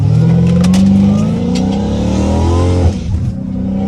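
A Dodge Hellcat Redeye engine revs hard and loud, pitch climbing and holding, then dropping off with a burble, close by and with no voices.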